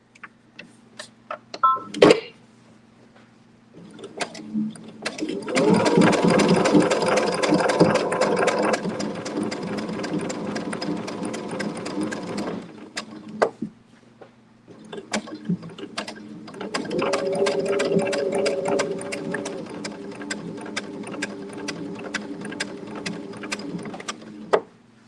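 A sewing machine stitches fabric appliqué for a sailboat-at-sunset design, running in two long bursts of steady rapid whirring and clatter separated by a short pause, close and alone with no talk.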